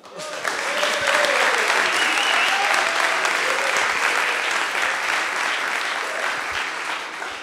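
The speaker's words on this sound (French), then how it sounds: "On applaudit, les gars." Audience applause fills a Paris startup demo day pitch session, a dense, steady wash of clapping that swells quickly and holds for several seconds before easing slightly, with some faint voices beneath.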